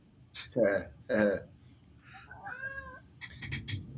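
A pet cat meows several times at close range, short vocal calls with one longer rising mew, heard amid light room noise.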